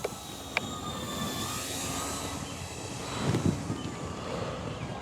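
An E-flite Twin Timber 1.6 m RC airplane flies slowly overhead at low throttle, a steady faint motor drone under wind noise with no talk, and a brief rise near the end.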